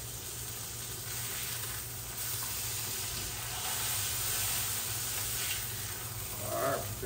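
A burger sizzles steadily in a Made In skillet, a continuous crackling hiss at moderate level throughout, with a brief clatter near the end and no voices.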